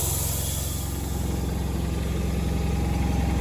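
A John Deere 420 garden tractor engine idles steadily and close by, with a constant low rumble and mild vibration that holds even from start to end, and no voices.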